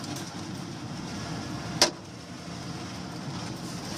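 An old truck with almost no shock absorbers left drives along, heard from inside as a steady low engine and road rumble, broken once by a single sharp clunk from a bump.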